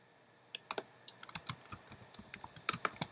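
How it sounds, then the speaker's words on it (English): Typing on a computer keyboard, a string of light, irregular key clicks close to the microphone, alone with no voices, the taps growing a little sharper toward the end. "We're going to type in here"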